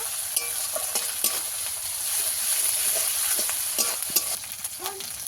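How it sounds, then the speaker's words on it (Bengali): Ginger paste and dried chillies fry in a pan for a Bengali chicken and potato curry, giving a steady soft sizzle broken by scraping stirs and small pops, close and moderately quiet, with no talking. "আদা বাটা শুকনো লঙ্কা আর আদা ভালো করে আর একটু ভেজে নেব"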